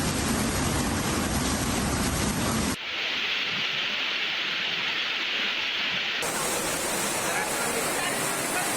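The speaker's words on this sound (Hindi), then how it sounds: "रावलपिंडी इस्लामाबाद में मूसलाधार बारिश" Torrential rain pours down over Rawalpindi and Islamabad, a dense, steady roar of heavy rainfall that stays loud and continuous throughout, with a brief change in tone partway through.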